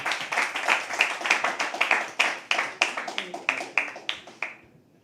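An audience at a live poetry open mic claps in a steady, rhythmic beat, the sharp hand claps repeating evenly before tapering off at the end.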